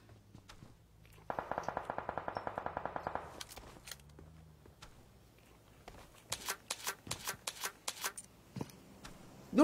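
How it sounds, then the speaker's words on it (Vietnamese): A DPS gun in a shooting video game fires two rapid automatic bursts, the first a long, even string of crisp shots and the second a choppier run a few seconds later, with quiet gaps between. "Bây giờ chúng ta lại thấy một pha mà Piang Siang của chúng ta lại bắn DPS cân 3."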